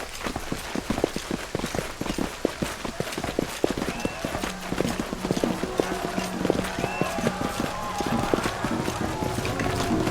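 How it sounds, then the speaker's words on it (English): Heavy, thumping footsteps in the Pathfinder: Wrath of the Righteous video game, heard as a steady clomping rhythm over busy game ambience and music, fairly loud throughout. "That sounds like heavy clumping. Thumping. Footsteps."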